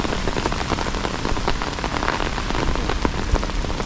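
Heavy rain pours steadily near a river, a dense, even hiss of drops striking surfaces with scattered sharper splashes throughout, close and continuous with no talking.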